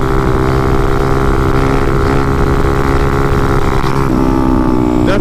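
Motorcycle engine held in a wheelie at high revs, close and loud, with a continuous droning roar and a slight shift in pitch near the end.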